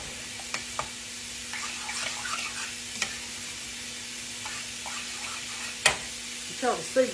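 Vegetables sizzle in a hot pan while a spoon scrapes and stirs them, a steady low frying hiss broken by scattered clinks and taps, with a sharper clatter near the end.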